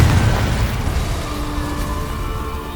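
A Confringo spell explosion in Hogwarts Legacy, a loud booming blast that opens the moment and rumbles away into a fading roar.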